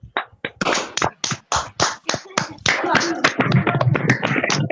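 Scattered hand claps from an audience at a talk build into sustained applause, starting as a few sharp claps and swelling into a dense, steady clapping.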